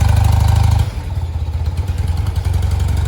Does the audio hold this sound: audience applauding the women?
no